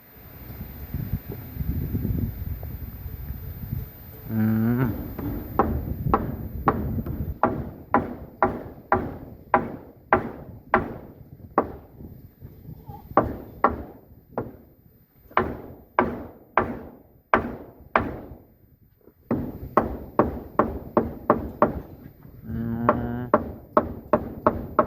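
Nails being hammered while building a rural garden kitchen: a long run of sharp, close, fairly loud strikes in steady bursts separated by short pauses, with low rumbling background noise.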